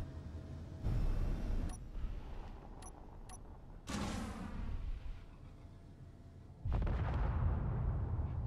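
Strafing gunfire and explosions from a Space Engineers game attack on an ore facility: heavy booming bursts arrive in waves, with sharp pops and rumbling blasts and a loud roar starting again near the end.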